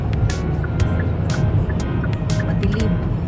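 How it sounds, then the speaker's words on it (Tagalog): A car driving home through snowfall gives a steady, loud road rumble and engine hum from inside, with faint ticking and occasional brief higher clicks over it. "Nasa sasakyan kasi kami ngayon pauwi ng bahay."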